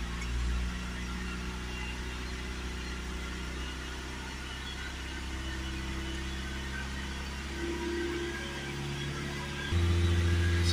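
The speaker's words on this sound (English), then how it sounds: "Some of these modern cars are very difficult to just get it to hold at a certain rev." Steady mechanical drone of a Ford Transit 2.0 diesel, rear-wheel drive with a blocked DPF, held at raised revs, a constant hum that shifts pitch slightly and rises a little near the end, with no talking.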